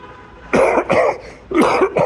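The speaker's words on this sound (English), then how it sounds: "I've been coughing" Four sharp coughs in two pairs, close and loud, with a short quiet gap between the pairs.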